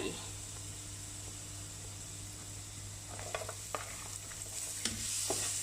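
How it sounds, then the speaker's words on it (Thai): Onions stir-fry over low heat in a pan after garlic has been fried, giving a soft, steady sizzle. Occasional close clicks and scrapes come from the utensil moving the onions. "ผัดจนหอมใหญ่เขาเปลี่ยนเป็นสีใสๆนะคะ"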